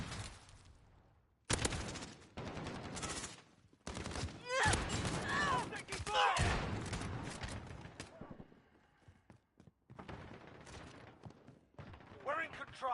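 Gunfire in a Modern Warfare video game: loud bursts of rifle and automatic fire come in clusters, with shouted voices over and between the shots.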